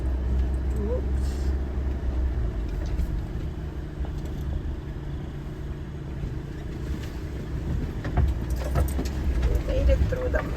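A car grinds slowly along a muddy dirt road at a Crown land campsite, its engine rumbling low and steady amid rattles and jangles, with people talking over the drive.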